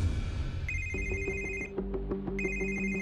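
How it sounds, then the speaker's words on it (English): A telephone rings at night with a bright electronic tone, a high pulsing ring layered over a repeating lower melodic pattern, steady and fairly close with no voices. "At 3 o'clock in the morning, I got a phone call"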